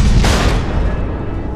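Missile explosions in Batman The Enemy Within, a loud, close, rumbling boom that swells at once and then rolls on as a dense, heavy blast.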